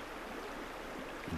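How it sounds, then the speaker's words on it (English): A river current flowing in Sedona, Arizona, a steady soft rushing wash of water with no breaks, faint and even throughout, alone without talk. "I remember the sound of the river"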